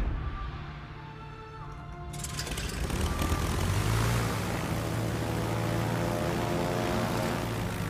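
German bomber aircraft engines drone in World of Warships, a low, steady propeller hum that swells after a couple of seconds into a broad, sustained roar and holds at that level.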